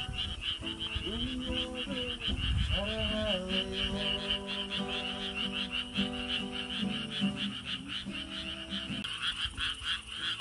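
Frogs croak densely through a rural night, a steady loud chorus of pulsing calls layered with harmonic tones that sound like a strummed acoustic guitar, with no talking.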